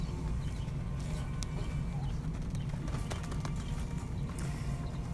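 A horse's hooves clip-clop as it runs in circles during a training session, a continuous rumbling patter of steps over ground noise with a few faint bird calls and no speech.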